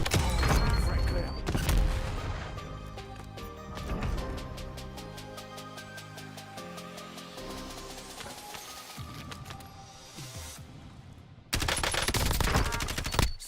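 Rapid video game gunfire of a modern military shooter crackling in dense bursts, with sharp shots near the start and a loud renewed volley near the end over music and game sounds.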